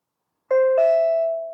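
A SimpliSafe Video Doorbell Pro chime sounds after half a second of silence: two clear electronic ding-dong tones, the second note ringing on and slowly fading, loud and alone.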